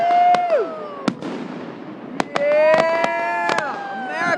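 Fireworks show at Hayden, a series of sharp loud bursts and crackling booms with whistling rockets rising and falling between them, while spectators talk and cheer over the noise.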